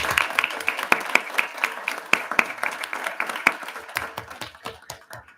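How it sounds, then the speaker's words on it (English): Applause at a Board of Education meeting for a string quartet from the school music program: moderate, slightly distant clapping with distinct individual claps, thinning out toward the end. "If we can give them a round of applause."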